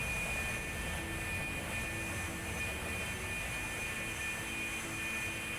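Steady, loud aircraft engine drone in the X-Plane 11 flight simulator, a continuous broadband roar with a faint whine on top that holds level throughout, with no voices.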